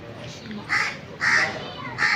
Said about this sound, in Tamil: விருந்துக்காரங்க வந்த பிறவாக்கும் காக்கா கத்திட்டு இருக்கு.